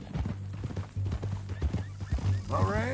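Horse hooves clip-clopping in the Red Dead Redemption 2 video game, a brisk, steady stream of close hoofbeats with low thuds, ending with a short voice or whinny-like sound rising over the steps.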